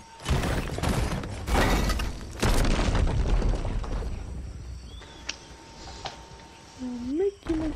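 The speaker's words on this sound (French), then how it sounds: "Un mec qui m'a tiré dessus." Loud booming gunshots and shattering blasts in Fortnite, several heavy hits in the first half, fading to quieter game ambience with a few later pops; someone speaks briefly near the end.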